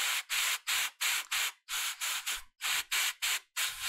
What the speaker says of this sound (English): we're moving on to the airbrush, apply our mid-tone transition smoothing and glazing